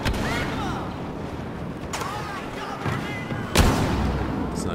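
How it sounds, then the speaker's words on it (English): A grenade goes off in the shooter Star Wars Battlefront amid ongoing battle noise: scattered blaster shots and whistling bolts, then one sharp, loud blast near the end. "Let's throw a grenade."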